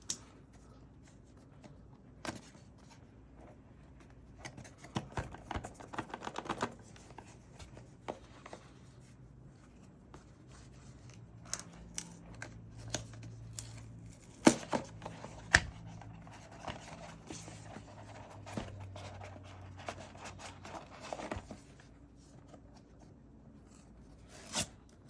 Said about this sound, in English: Let's open the box. Cut it here.